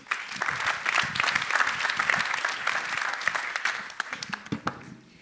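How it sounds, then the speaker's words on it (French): Audience applause fills a conference hall as a co-founder is called on stage for a startup pitch event; dense, steady clapping from a sizeable crowd that thins and tapers into scattered claps at the end. "Des applaudissements,"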